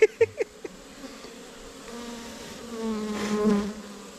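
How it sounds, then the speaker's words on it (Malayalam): Honeybees buzz around an opened beehive during hive inspection, with a few sharp close taps at the start, then a rising and falling drone of bees passing near, loudest toward the end. "ഇതുണ്ടല്ലേ, ഒരു ഈച്ച വന്നിരിക്കുന്നത് എൻ്റെ മൂക്കയിൽ."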